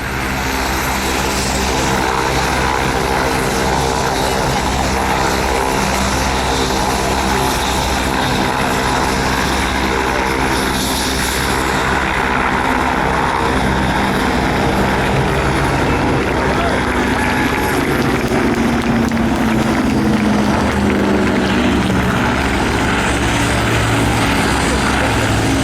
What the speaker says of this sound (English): give the pilots a wave as they come in for the bomber break